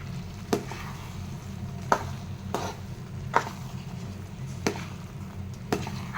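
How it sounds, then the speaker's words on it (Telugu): Boiled rice being stirred into jaggery with a spoon, giving soft wet knocks against the pot at a slow, steady pace of about one per second over a quiet background. "బెల్లంలో రైస్ వేసిన తర్వాత ఇలా అంతా కలుపుకోవాలి ఒకసారి"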